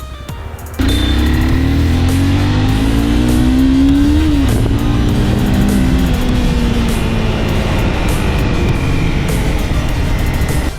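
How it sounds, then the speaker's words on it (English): A 2011 Honda CBR 250R, a 249cc liquid-cooled four-stroke motorcycle, kicks in after a brief quiet start and drones loudly and steadily through a city ride, its pitch rising and falling through gear changes amid wind rush. "The 2011 CBR 250R is powered by a 249cc liquid-cooled 4-stroke engine"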